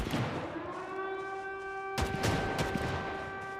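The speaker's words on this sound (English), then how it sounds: "Can you guys put some silencers on those hand cannons?" Hand cannons fire in the video game Project Zomboid: a few loud, heavy shots burst out near the middle and continue as scattered booms, layered over a steady droning tone.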